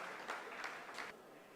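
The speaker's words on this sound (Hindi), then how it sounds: "आप इस तालियों के गड़गड़ाहट को सुन सकते हैं" Applause from scientists in a mission control room during the Chandrayaan-3 lunar landing, a soft, distant, steady wash of clapping with a few slightly louder swells, then fading.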